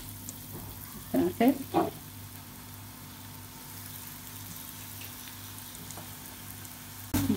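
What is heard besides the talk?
onions frying in hot oil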